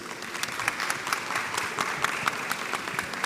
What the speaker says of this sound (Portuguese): Então eu queria uma salva de palmas para eles.